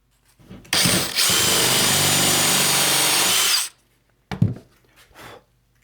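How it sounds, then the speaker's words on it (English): A power drill with a 7/8-inch Forstner bit whines steadily for about three seconds as it bores about an inch into wood, then stops; a couple of brief thumps and handling noises follow. "I've got a 7/8 inch Forstner bit installed. I'm going to drill down about 1 inch"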